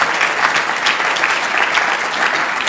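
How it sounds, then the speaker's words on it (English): Lecture audience at a Nobel symposium public lecture clapping after the talk, a full, continuous round of applause from many hands, close and fairly loud with no talking. "Why don't we clap again?"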